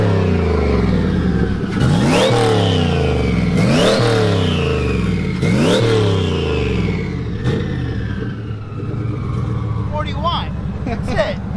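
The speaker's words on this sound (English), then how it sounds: "Let's get a little rev action now." A turbocharged Chevrolet Corvette C7 engine revs loudly up close, climbing in three sharp bursts that fall back between them, then settling into a rough idle with a few lighter blips.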